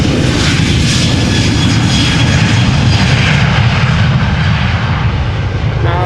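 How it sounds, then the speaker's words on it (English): A KLM Boeing 737-800 jet departing Amsterdam Schiphol Airport gives a loud, steady engine roar with broadband rumble and hiss that holds at full strength throughout, with no voices. "Now this is a KLM Boeing 737-800 going to Birmingham, flight 1431."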